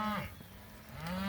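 Cattle on a pasture farm mooing, with two drawn-out calls at the start and end of a short stretch, moderately close and heard alone with no talk.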